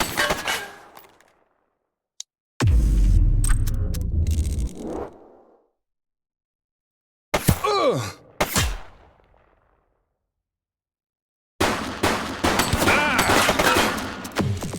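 Gunfire from a suspect in the police video game The Precinct: loud sharp bursts of shots separated by silent gaps, with several rapid cracks in the middle and a dense volley at the end.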